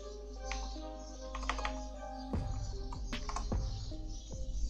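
Quick bursts of clicking keystrokes on a computer keyboard, with a low steady hum underneath that drops out partway, then continues with more rapid, closer key taps.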